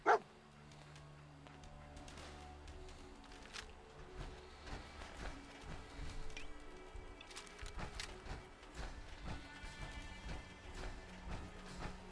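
Dogmeat, the dog companion in the video game Fallout 4, barks in short faint bursts repeated over a quiet, steady game ambience.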